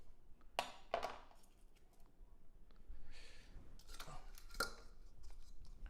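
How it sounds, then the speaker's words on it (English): A knife slices a red onion in half on a cutting board, giving a few sharp, close clicks and taps of the blade striking the board amid quiet kitchen handling noise. "stand the onion up, cut right down in the middle"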